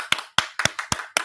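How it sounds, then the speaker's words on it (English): Five loud, separate hand claps ring out close by at a steady, slightly uneven rhythm, each a sharp burst with a short decay before a brief gap. "We're gonna give you a round of applause for having the audacity."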